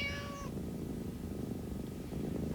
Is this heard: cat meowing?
yes